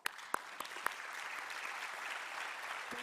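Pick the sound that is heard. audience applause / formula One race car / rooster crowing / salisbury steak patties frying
audience applause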